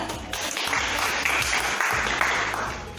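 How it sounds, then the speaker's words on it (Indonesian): A classroom of students claps together in steady, sustained applause, a dense, even patter of many hands close by. "Berikan aplaus."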